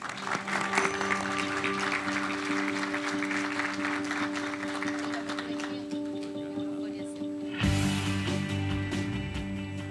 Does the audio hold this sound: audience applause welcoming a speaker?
yes